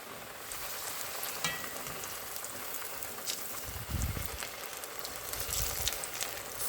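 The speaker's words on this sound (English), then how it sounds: "the oil is hot, obviously. I'll start dropping these in to fry them" Pickle balls deep frying in very hot oil give off a steady, dense sizzle and crackle, with a brief fuller bubbling surge partway through and no voices.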